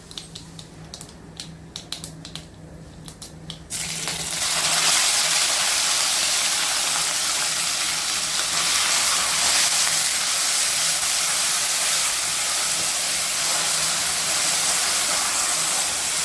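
Onions hit hot mustard oil in a pan for a potato and phool makhana curry: a few light clicks, then a sudden loud, steady sizzling hiss that keeps going close up, with no talking.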